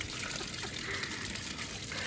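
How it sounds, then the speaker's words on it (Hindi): Water flows steadily into a garden bed in a flooded village, a continuous close rushing trickle that holds an even level throughout with no voices. "ये अंदर क्यारी के अंदर जा रहा पानी।"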